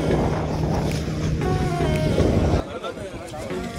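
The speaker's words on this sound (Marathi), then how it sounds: "काय ते वारा येते" Strong wind buffets the microphone with a roaring rumble, mixed with boat engine noise and voices talking over it.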